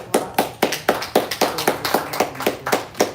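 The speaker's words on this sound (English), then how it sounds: "Give you another round of applause." Hands clap at an event to honour musicians, a crisp, steady beat of about a dozen evenly spaced claps that sound close and fairly loud, with no talking.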